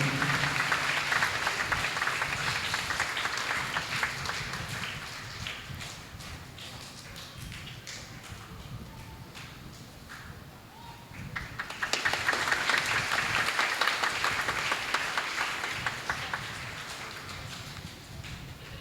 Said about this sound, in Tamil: மீண்டுமாய் ஜோரா கைத்தட்டி கடவுளுக்கு நன்றி சொல்லுவோம்.